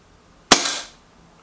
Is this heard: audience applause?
no